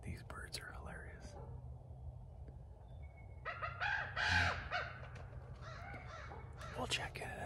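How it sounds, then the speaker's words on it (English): Birds at a wolf blind near Red Lake, Ontario, give raspy, cawing calls in bursts, fairly close, with quiet whispering from people between the calls. "these birds are hilarious"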